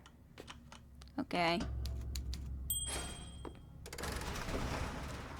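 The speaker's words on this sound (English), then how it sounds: "Try the Oh. typewriter" A typewriter in the video game Bioshock Infinite clacks with a quick burst of keystrokes and a carriage ring, followed by mechanical rattling, while a voice speaks briefly.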